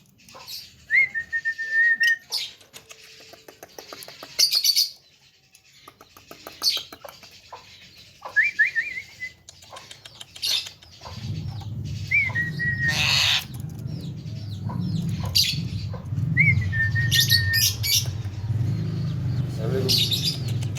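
A tame Javan myna sings and whistles in a series of short rising whistles and chirps spaced a few seconds apart, close and clear, with a steady low background hum joining partway through.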